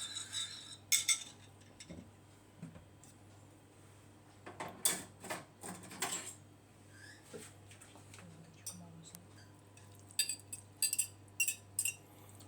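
Spoon clinking against a bowl while soy sauce and oil dressing is stirred, a series of quick light taps in bursts with pauses between, close and fairly quiet over a low steady hum.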